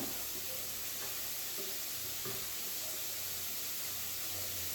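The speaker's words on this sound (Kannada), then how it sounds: "ಈರುಳ್ಳಿ ಕರಿಬೇವು ಹಾಕಿ ಫ್ರೈ ಆದಮೇಲೆ" Onion and curry leaves fry in a pan with a soft, steady sizzle and hiss. A few faint clinks and stirring taps come through the quiet, even frying.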